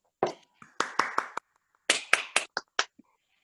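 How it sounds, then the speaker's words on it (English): A few people in an online workshop clap in short, sparse bursts, separate sharp claps in small clusters with gaps of silence between, close and light rather than a full crowd. "Okay, then we're going to give you another round of applause."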